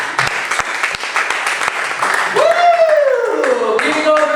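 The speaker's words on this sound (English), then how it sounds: "Clap up for yourselves for sticking around." An audience at a comedy open mic claps steadily and loudly, with a whoop rising and falling over the clapping and voices mixed in.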